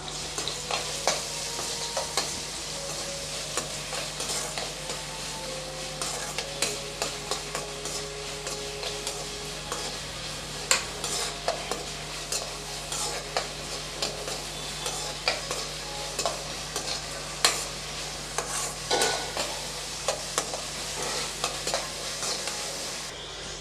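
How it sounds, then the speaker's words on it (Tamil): Chopped onion is sautéed in a pan for a potato side dish, with a steady hissing sizzle throughout, repeated spatula scrapes and stirring clicks, and a low background hum. Nobody speaks. "வெங்காயத்தை கொஞ்சம் நல்லா வதக்கி விட்டுக்கலாம்"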